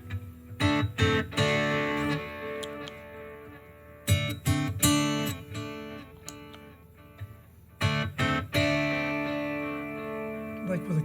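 Electric guitar driven through a Mosky Black RAT distortion pedal with the treble cut, strummed chords and single notes ringing out in bursts with pauses between, a warm, lightly edged tone played alone at close range.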